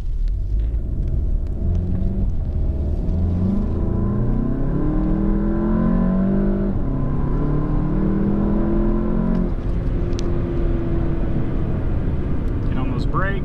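A Volkswagen Golf GTI Mk7 with a tuned DSG transmission revs hard and climbs in pitch through several instantaneous gear changes, loud and close, steady rumble underneath.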